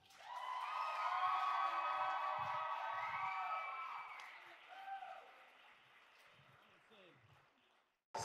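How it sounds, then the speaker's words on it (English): An audience applauds and cheers for Shelton and Sue, a broad wash of clapping and crowd voices that swells, holds, then thins out over several seconds. "So let's give one final applause for Shelton and Sue."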